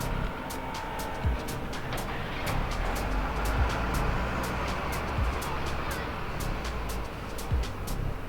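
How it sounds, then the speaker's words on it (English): A truck passes on an industrial estate as a broad, steady roar of engine and road noise with a low rumble, over a run of regular faint ticks. "Wait for the truck to go past."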